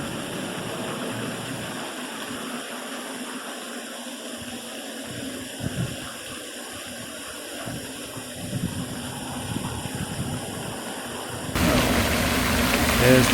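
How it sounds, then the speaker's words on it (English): Steady broadband roar of street traffic mixed with the splash of a park fountain, a continuous wash of noise that swells louder toward the end, with no talk. "Sorry about the traffic noise."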